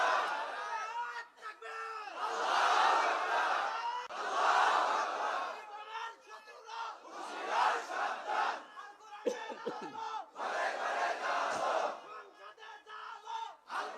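A large crowd at an outdoor religious sermon gathering in Ghatail, Tangail roars a takbir chant in response, with several loud swelling waves of massed voices separated by short pauses.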